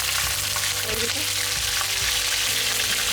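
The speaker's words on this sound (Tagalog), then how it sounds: "Ilagay na natin yung pork natin sa mantika." Pork dropped into hot oil for a pork steak sizzles loudly and continuously, a dense, close spattering fry with a low rumble underneath.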